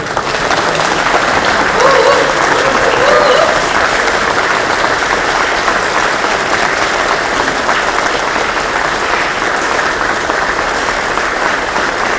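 Steady, sustained applause from a room of Democratic Party lawmakers at a caucus meeting, continuous and even for the whole stretch, with a voice briefly audible early on.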